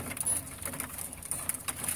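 Sport tumbler pigeons feed on grain, including barley, inside a home pigeon loft, with soft cooing mixed into busy light pecking and patter, fairly close and moderately quiet.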